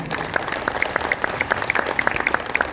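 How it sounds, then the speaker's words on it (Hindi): An audience breaks into applause at a live stage event, distinct individual claps standing out over a crowd patter, close and fairly loud throughout. "थोड़ी तालियां चाहूंगा आप लोगों की।"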